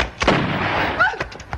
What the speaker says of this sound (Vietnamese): Cái súng con nít chơi nổi lớn tiếng quá.